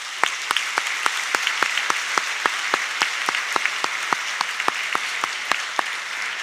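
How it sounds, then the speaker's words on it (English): At an academic convocation, an audience gives Brooke Gladstone a round of applause, with sparse, evenly spaced individual claps that stay steady and fairly close throughout. "Let's give one more round of applause to Brooke Gladstone."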